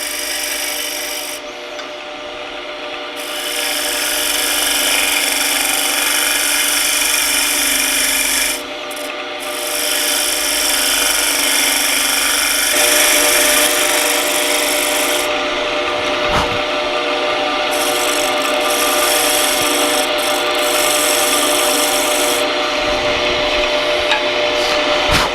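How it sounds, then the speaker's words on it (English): Wood lathe turning a table lamp base into a cylinder, the tool cutting in from each edge toward the center; a continuous loud rasping, scraping cut runs throughout, with brief dips as the tool lifts off. "By flipping the tool over here and cutting from each edge in towards the center, true this up into a nice cylinder."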